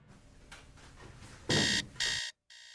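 A ship's emergency alarm signal sounds as two loud, sustained electronic buzzer blasts, each under a second long, separated by a short gap. It rises out of low background noise and then cuts off.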